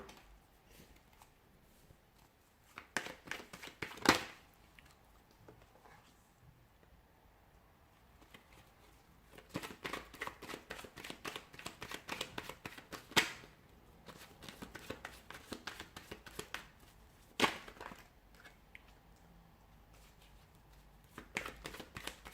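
Tarot cards are shuffled by hand in quiet surroundings, bursts of crisp riffling and slapping come in irregular clusters, with faint soft pauses between them.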